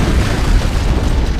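A loud, sustained low rumbling boom of an explosion aboard a ship in Halo: Combat Evolved, filling the whole clip with heavy, dense roar and no speech.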